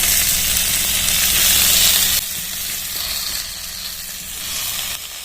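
Tomatoes sprinkled with salt sizzle loudly in a pan for an egg and potato mash, a continuous close frying hiss that drops in level partway through and keeps going softer, with no talking.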